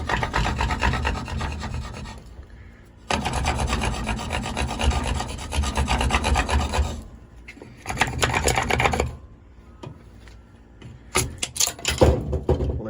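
Serrated saw teeth on the spine of an HX Outdoors Trident survival knife rasp back and forth while notching wood, in loud, close bursts of repeated strokes separated by short pauses.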